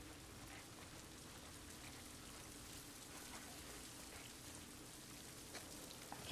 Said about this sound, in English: I can't really hear because of the rain